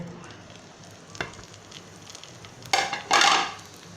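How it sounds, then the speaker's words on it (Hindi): Cumin and green chillies hit hot oil; a faint background hiss gives way to two loud, abrupt bursts of sizzling near the end, with a small clink before them and no speech. "बाद मैं डालूंगी जीरा, इसमें डालूंगी हरी मिर्ची"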